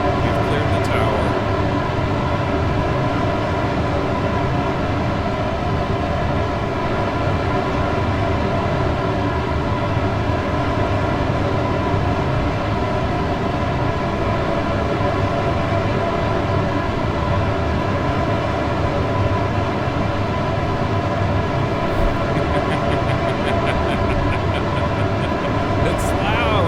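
A Soyuz rocket launch roars continuously as a loud, dense, rumbling blast that holds steady for nearly half a minute without letup.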